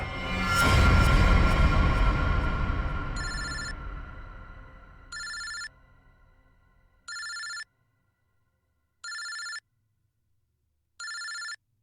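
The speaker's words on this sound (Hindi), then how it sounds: "ये किसका फोन है?" A loud crash or rumble fades out, then a telephone rings in short electronic bursts, repeating at steady intervals.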